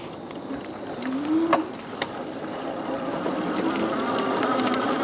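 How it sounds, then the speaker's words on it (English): A Kingbull Literider 2.0 e-bike motor hums under throttle in pedal assist 5, a rising electric whine over steady wind and road noise, with a few small clicks along the way. "put the bike up into pedal assist 5, and then we'll just kind of do some throttle on it."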